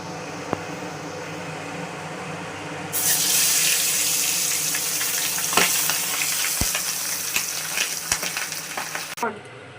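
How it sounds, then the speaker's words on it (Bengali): Pabda fish is laid into hot mustard oil in a wok, setting off a loud, steady hissing sizzle about three seconds in, with spatters and crackles that run on until it suddenly stops. "মাছটা ভাজার জন্য কড়াইয়ে সরষের তেল দিয়ে দিচ্ছি"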